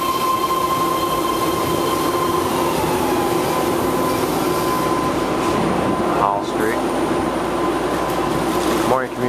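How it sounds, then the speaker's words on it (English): A BART Daly City train rolls up to a station platform with a steady, loud rumble and hum, its wheels squealing briefly twice toward the end. "City train approaching the opposite platform now."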